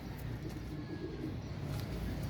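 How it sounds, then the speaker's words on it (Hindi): Kal Duma flying pigeons coo softly and steadily up close, a low murmuring drone with faint chirps and a distant car in the background. "ये परवाजी कबूतर है माशाल्लाह से"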